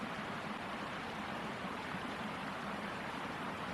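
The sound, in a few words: mountain stream flowing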